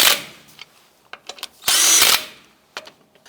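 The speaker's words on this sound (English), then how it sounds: "Go ahead and get all your lug nuts started by hand. Go ahead and snug these down." A power tool snugs down the wheel lug nuts on a 2004-2012 Chevy Colorado with a few short whirring bursts, one longer hard run and scattered clicks and knocks, close by in a quiet garage.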